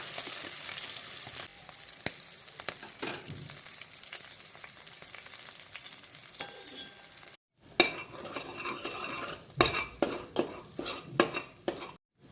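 Gravy masala with cumin, mustard seeds and chopped chilli sizzles in hot oil, a steady crackle that cuts out briefly midway, then returns with sharp spoon scrapes and clinks against the pan as it is stirred.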